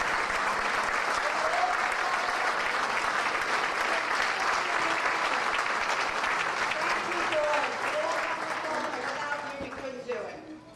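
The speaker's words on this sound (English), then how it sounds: "Let's give them a round of applause." Sustained audience applause at a 2014 charity gala dinner as board and committee members stand, a steady full-room wash of clapping that fades near the end, with a few voices underneath.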